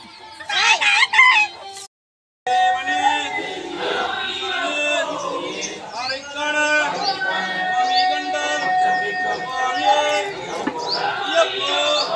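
Hens and chicks cluck and cheep close by at a relative's house, with a rooster crowing, a brief drop to silence near the start, and people talking faintly in the background.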